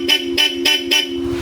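A Bosch Europa horn fitted on a Yamaha Aerox V3 scooter honks four times in a steady rhythm, short loud toots with a bright dual-tone ring, close by and with no talk over them.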